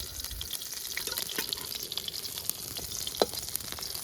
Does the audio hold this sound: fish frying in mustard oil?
yes